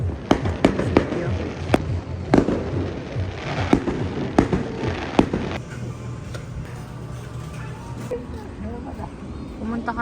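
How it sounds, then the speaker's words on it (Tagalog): Fireworks bursting during Christmas festivities, a series of sharp loud bangs and crackles at irregular intervals for the first half, then fading into a quieter crowd murmur with distant pops while people talk. "Fireworks"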